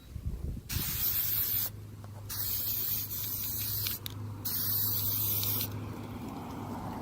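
High-temperature paint spray-can hissing onto cleaned, wire-brushed stock brake calipers, close and loud in several long bursts separated by short pauses, with a low steady hum underneath.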